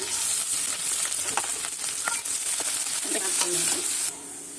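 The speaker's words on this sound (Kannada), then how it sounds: "ಈರುಳ್ಳಿ ಚೆನ್ನಾಗಿ ಫ್ರೈ ಆಗಿದೆ" Onion, mustard seeds and curry leaves frying in oil, a close, bright continuous sizzle with a few quick stirring scrapes, cutting to quieter sound near the end.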